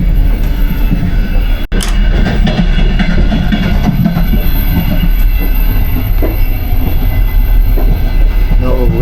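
Intercity Plus passenger train running on rails between Kharkiv and Kyiv, a steady loud interior rumble of wheels and carriage with faint rattles and a brief clunk, no talking.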